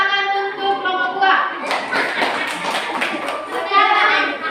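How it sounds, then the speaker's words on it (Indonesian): A group of children in a primary school classroom applaud a presenting group, with dense, steady clapping that builds partway through, while a voice talks over the start. "tepuk tangan untuk kelompok 2"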